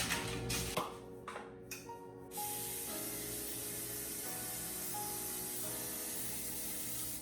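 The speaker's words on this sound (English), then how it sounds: "prepare a baking sheet with parchment paper and then coat it with non-stick cooking spray" Non-stick cooking spray hisses onto a baking sheet lined with parchment paper, a few short bursts followed by a long steady spray, close and fairly loud.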